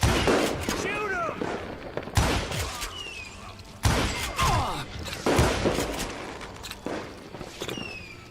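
Repeated gunshots and ricochets in the Wild West shooter Call of Juarez Gunslinger, loud bursts and echoing bangs spaced across the stretch, with a voice talking over the shooting.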